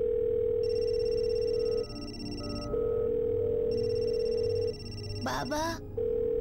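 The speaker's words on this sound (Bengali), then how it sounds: "ফোনটা তো এখানেই বাজছে।" Telephone ringing nearby, a sustained electronic ring tone with several pauses, heard alongside a brief spoken word and a short rising electronic chirp near the end.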